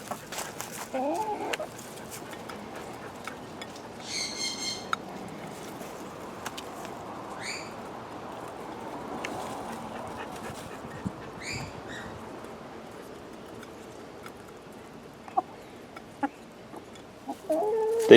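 Backyard chickens eating mealworms, with soft clucks and a few sharper calls scattered over a quiet outdoor background, fairly near and moderate in volume.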